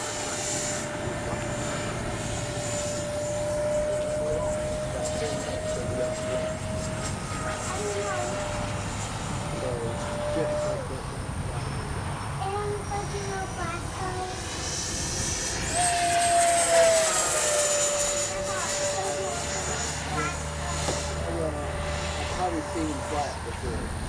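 Freewing 70mm Yak 130 RC jet taking off: a steady, loud electric ducted-fan whine that swells and rises in pitch as it passes close by, with a person talking over it.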